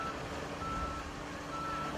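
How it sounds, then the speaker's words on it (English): A truck fitted with a tailgate-mounted side conveyor, used to spread crushed stone along a road shoulder, sounds a steady series of reversing beeps over a low engine rumble, with no talking. "Use a truck with a tailgate mounted side conveyor."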